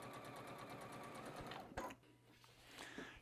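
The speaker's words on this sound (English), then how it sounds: "now we're just going to sew all the way through to that bottom corner." A sewing machine stitches steadily through fabric with a fast, even mechanical whir, close and continuous, briefly interrupted by a sharp click near the middle before the stitching resumes.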